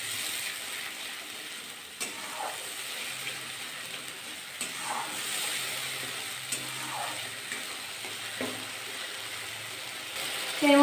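Ground spice paste sautéing in a pan, a steady low sizzle running throughout with occasional scrapes of stirring, fairly faint and close, no voice over it.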